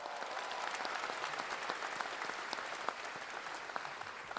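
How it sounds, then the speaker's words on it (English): An audience at a university graduation ceremony gives a round of applause, continuous mid-level clapping heard from a distance with scattered sharper claps standing out. "A round of applause to you all."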